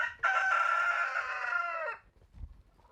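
A rooster crows once in a long, loud, close call lasting nearly two seconds inside a hen house where chickens roost on chicken wire, followed by faint low clucks and rustling.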